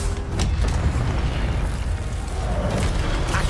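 Incendio fire spell cast in Hogwarts Legacy, a loud, dense, roaring whoosh of flame layered with low rumbling game effects that holds steady throughout, without a break.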